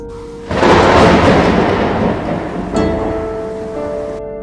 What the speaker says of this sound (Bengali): খুব জোরে একটা মেঘ ডাকলো।